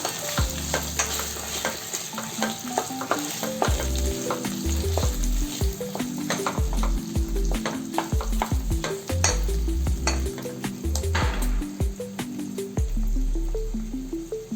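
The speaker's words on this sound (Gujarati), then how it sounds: "બટેટા ઉમેર્યા બાદ થોડું હલાવી લઈશું" Potatoes fry in hot oil for sabudana khichdi, a loud continuous sizzle close by, broken by repeated clattering stirring strokes of a spoon against the pan.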